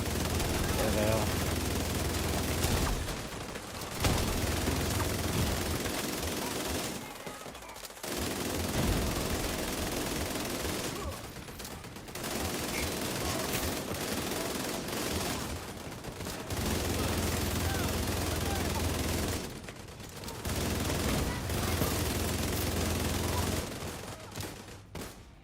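Rapid bursts of video game gunfire rattle loudly and almost without pause through the stretch, broken by a few short gaps, with a voice talking over the shooting.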